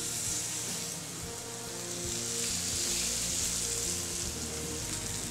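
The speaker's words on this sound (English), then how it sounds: "Now we'll add some oil to the hot skillet, and we'll swirl the coat," Chocolate-crusted ribeyes sizzle in an oiled hot skillet, a steady close frying hiss with faint background music underneath.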